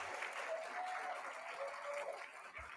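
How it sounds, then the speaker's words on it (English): A room of guests at a West Virginia broadcasting awards ceremony applauds standing board members, a quiet, steady patter of many hands sustained across the whole moment, with faint tonal hum underneath. "Let's give them a round of applause."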